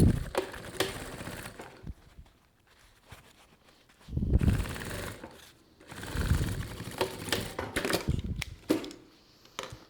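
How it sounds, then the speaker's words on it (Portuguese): A sewing machine stitches the bottom seam of a fabric pencil case in several close bursts of rapid mechanical chatter, with short quiet pauses between runs. "A gente vai costurar aqui essa parte do fundo."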